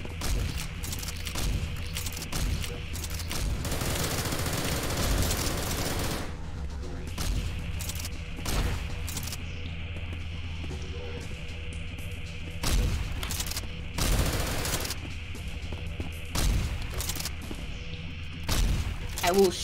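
Gunfire in the game SCP Containment Breach: repeated loud bursts of shots, some rapid and some spaced out, over a busy game soundtrack, with people talking over the noise.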